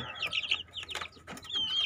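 Three-week-old chicks in a simple coop peep and cluck in quick, high, overlapping chirps, close and fairly faint, with no talking.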